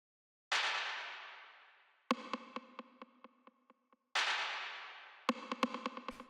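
Acid techno percussion: a long bright clap hit with a decaying noisy tail, then a quick run of sharp, pitched 909 rim shots, the clap-and-rim pattern repeating twice, dry and close with no voices.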